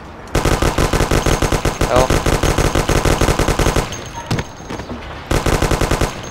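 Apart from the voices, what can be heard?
gunfire while jumping, from video game Mafia 1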